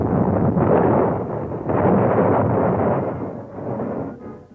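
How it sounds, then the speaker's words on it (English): Dynamite blasts carving the granite of Mount Rushmore, heard as a continuous heavy rumbling roar with two swelling surges and a trailing fade, loud and close with no talk. "Two final blasts, and then comes the unveiling."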